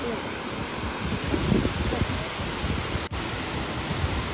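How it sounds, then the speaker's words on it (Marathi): Water rushes over rocks beneath a bridge, a broad, steady hiss that flows continuously, with faint talk briefly audible beneath it. "धबधब्यासारखंच फ्लो आहे पाण्याला"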